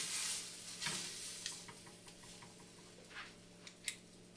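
A chicken breast is flipped in a hot pan and settles into a soft, steady sizzle, with a few faint taps and clicks from the utensil along the way, quiet and close with no talking.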